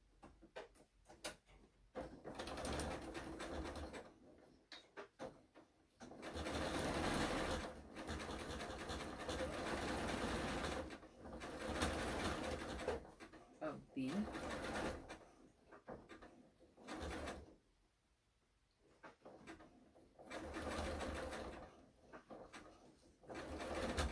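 A sewing machine stitching down the center of an apron, in several runs of steady rapid stitching with short pauses between them, close and clear with no talk.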